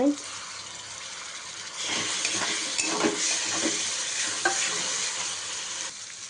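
Finely chopped tomato drops into a hot pan of onions and is stirred, with sizzling rising sharply and spoon-scraping clatter over a steady frying hiss; no one speaks.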